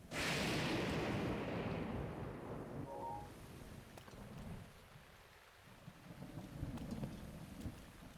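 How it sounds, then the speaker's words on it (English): Steady rain pouring in a Hyrule landscape in a Zelda video game, a dense, hissing wash that is loudest at the start and then settles into a continuous softer patter with no voices. "I kind of wish it wasn't raining right now"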